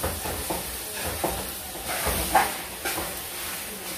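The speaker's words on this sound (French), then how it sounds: "Nous avons passé la cuillère dans le viande pour ne pas coller en bas." Meat being stirred with a spoon in a pot, a steady close sizzle and hiss under soft scraping strokes that recur every half second or so.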